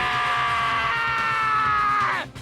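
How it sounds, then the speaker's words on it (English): A single loud, sustained scream from a character in a murder mystery visual novel game, one drawn-out, strained cry lasting about two seconds that cuts off abruptly, with no talking. "See, Makoto? That's a scream."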